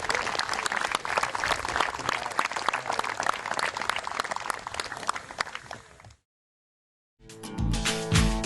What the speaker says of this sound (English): How about one more round of applause for our 2021 Shaler area boys soccer players.